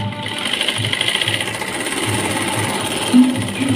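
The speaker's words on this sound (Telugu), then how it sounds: "ఈ క్లాత్ అటు ఇటు జరగకుండా ఒక కుట్టు ఈ విధంగా వేసేసుకోవాలి." A sewing machine runs steadily, stitching the lining cloth of a blouse: a continuous close, loud mechanical whir with a fast regular needle patter, plus a brief bump near the end, and no voices.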